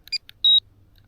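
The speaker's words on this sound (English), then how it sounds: "Do you know how to turn off the beeping for return to home? Because it is the most irritating noise." A DJI Neo drone sounds its return-to-home warning: a couple of short electronic chirps followed by one sustained high, piercing beep, loud and close with no voices.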